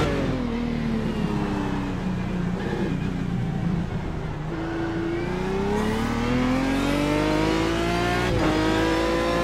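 An Aston Martin DBR9 GT1 race car in iRacing holds a loud, continuous engine drone at throttle, its pitch sagging and then climbing steadily as it revs, with a brief dip near the end.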